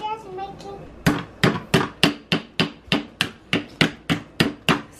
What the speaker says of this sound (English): you can use like a pretend hammer and like goggles for him to crack it